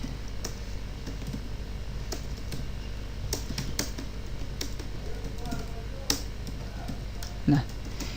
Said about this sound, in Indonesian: kita coba ketik terlebih dahulu pertanyaannya